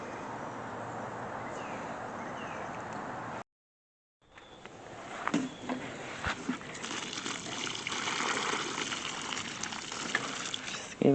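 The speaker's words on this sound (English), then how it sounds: "Just give it a good drink of water." Water poured onto a newly planted shrub, a soft trickle, then after a short gap a louder splashing gush that soaks into the ground close by.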